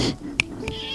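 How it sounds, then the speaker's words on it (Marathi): A young male cat gives a couple of short meows close by, quiet and brief, one sharper than the other. "क्यूट मांजर आहे, क्यूट."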